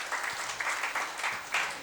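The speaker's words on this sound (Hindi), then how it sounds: "तालियां बजाइए सब लोग।" An audience at a gathering claps in a soft, steady round of applause with slight swells, heard at a distance.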